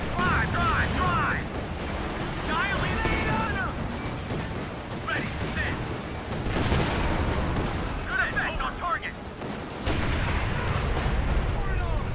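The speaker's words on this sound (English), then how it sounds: "tank ready. Fire main gun." Tank main gun firing in the World War II strategy game Company of Heroes 2, heavy booms and battle noise in a dense mix under game voice lines, with repeated loud blasts across a busy battlefield.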